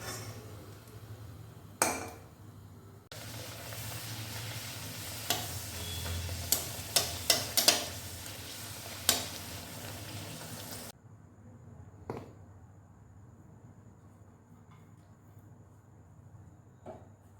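Kachori made with biuli dal frying in hot oil, a steady bubbling sizzle with scattered clicks and taps of a utensil, then it cuts to a quieter stretch with faint ticks.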